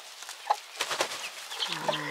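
Laying hens cluck in their pen in short, scattered calls close by, with a few sharper squawks. A higher, drawn-out call comes near the end.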